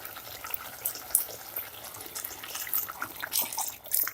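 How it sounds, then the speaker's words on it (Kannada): Coconut milk poured into a pot while cooking chicken biryani, giving a soft liquid splashing and trickling that swells in bursts toward the end, with no talk. "ಈಗ ತೆಂಗಿನಕಾಯಿ ಹಾಲು ಹಾಕ್ತಾ ಇದ್ದೀನಿ."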